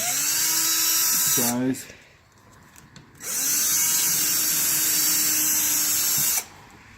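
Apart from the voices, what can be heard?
power drill drilling out locking nuts on motorhome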